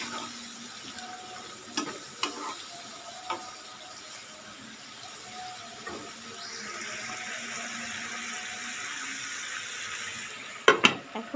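Shrimp being cooked with watermelon rind are stirred in a pan. Faint sizzling and occasional utensil clinks give way to a louder, steady hiss midway, and a few sharp clatters come at the end.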